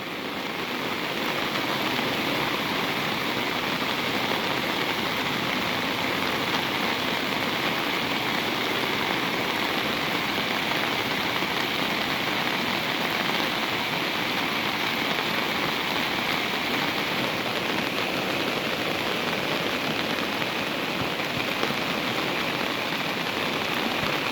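Heavy rain pouring steadily and loudly in Sylhet, Bangladesh, during flooding, a dense, unbroken hiss of drops hitting surfaces with no voices.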